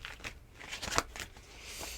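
Playing cards being shuffled, heard as a few quick, soft papery riffles and rustles close by, with no talking.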